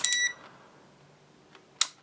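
A pocket multimeter gives a short, high continuity beep, then a second brief beep after a quiet gap, both close and clear.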